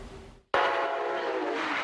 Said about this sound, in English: Brightline's Orange 2 has arrived in Orlando.